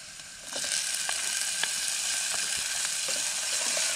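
Tomatoes hitting a hot pan set off a steady, close sizzle of frying, with soft stirring clicks scattered through it and no voices.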